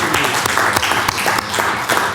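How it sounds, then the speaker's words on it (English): An audience at a city-hosted angel investing event gives a short round of applause, with dense, fairly loud clapping throughout and individual claps standing out. "Round of applause for Hall."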